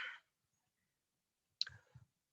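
Sharp computer mouse clicks while an Angular application is launched from a development environment, one crisp click followed shortly by two softer low taps, alone in a quiet room.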